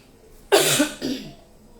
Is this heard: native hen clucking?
no